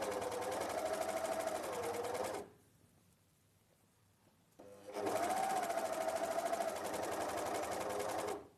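Cover stitch sewing machine running a seam near a garment collar, a steady close whirring stitch that stops for about two seconds and then starts again at the same even pace.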